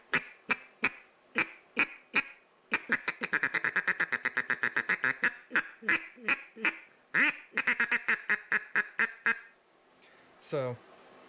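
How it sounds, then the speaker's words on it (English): Homemade wooden duck call blown in a long series of sharp quacking notes, from spaced single quacks to a fast rolling run of calls, loud and close, ending in a short lower note. "cool duck call"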